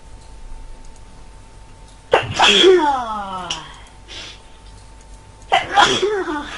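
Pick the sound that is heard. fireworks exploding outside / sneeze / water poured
sneeze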